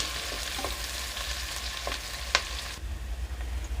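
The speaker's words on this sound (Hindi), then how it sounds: "हमने एक कटा हुआ प्याज ले लिया है, इसमें डालेंगे। इसको चलाएंगे, इसको चलाते रहेंगे जब तक प्याज ब्राउन ना हो जाए।" Chopped onion sizzles and crackles steadily in a hot pan as cumin fries for aloo dum, with scattered clicks of a spoon stirring through it and one sharper scrape near the end before the hiss softens; nobody speaks.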